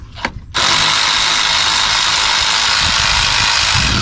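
A ratchet loosens 8 mm bolts on the throttle body of a 2007-2013 Chevrolet Avalanche 5.3L V8, beginning with a couple of soft clicks and then a loud, steady whirring buzz that holds for several seconds.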